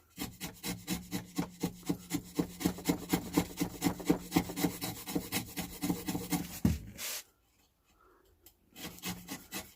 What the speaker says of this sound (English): we're just going to shave down these edges, take all those loose pieces out.